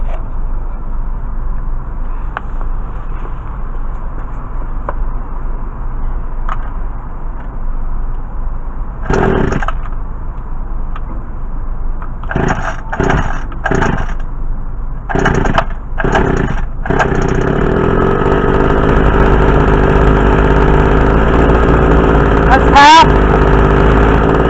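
A rebuilt Homelite weed trimmer's small two-stroke engine, loud and close, with bursts of pull-start sputtering before it catches and settles into a steady, buzzing idle that runs to the end, with a voice talking over parts of it.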